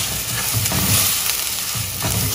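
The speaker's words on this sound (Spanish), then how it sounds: "Y aquí le voy a agregar el ajo." Finely chopped garlic fries in a pan for a rice and vegetable soup, giving a loud, even sizzle with soft stirring scrapes, close up and with no talking.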